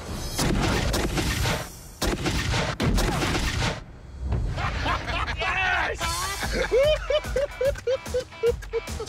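A muzzle-loading gun fires a rammed ball, each discharge a heavy boom among several loud blasts, with people talking and laughing between them.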